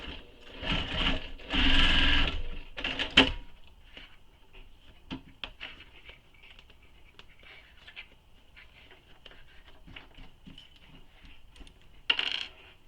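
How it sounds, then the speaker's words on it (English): A sewing machine stitches the side seams of a fabric satchel bag in short bursts, loud at first then pausing, with scattered small clicks and a final brief run near the end. "So I'm going to sew my sides, and I'm going to leave just the bottoms open."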